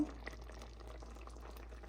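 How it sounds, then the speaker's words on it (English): Paneer gravy simmering at a boil for a Nawabi paneer dish, giving a soft, steady bubbling and popping that stays faint and continuous throughout, with no talking. "I've been boiling the paneer gravy for about a minute now"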